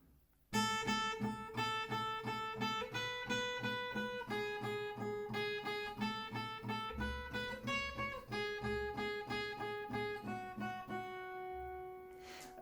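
Acoustic guitar picks out the melody of a song, steady plucked single notes repeating over ringing open strings, close and clear with no voice, about twelve seconds of playing before fading.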